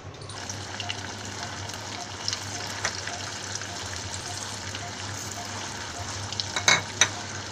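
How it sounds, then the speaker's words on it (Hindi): Potato tikki fry in a pan with a soft, even sizzle throughout and a few louder crackles and clinks toward the end. "अब आइए इसको फ्राई करते हैं।"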